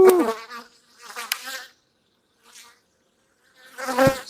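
Insects buzzing at an opened hive of Russian honey bees holding new Carniolan queens, in close bursts that swell and fade with short quiet gaps between.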